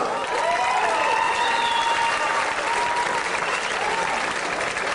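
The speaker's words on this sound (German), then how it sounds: "Einen großen Applaus" A large audience at a big band concert at the Peter und Paul festival in Bretten, Germany, applauds steadily, a dense, continuous wash of clapping that holds at the same level throughout.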